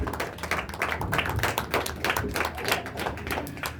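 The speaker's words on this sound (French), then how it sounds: "Clap your hands. Acclamez vos mains." A congregation claps continuously at a consecration service, dense overlapping applause from many hands filling the room at an even level with no breaks.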